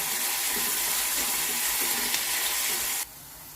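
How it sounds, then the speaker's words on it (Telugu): Onions and green chillies frying in a pan for egg and okra pulusu, giving a loud, dense, hissing sizzle close up that holds steady and then drops abruptly to a quieter hiss near the end. "ఇప్పుడు ఈ ఉల్లిపాయలు పచ్చిమిరపకాయలు వేసేస్తాను. వీటిని కొద్దిగా మగ్గనిద్దామండి."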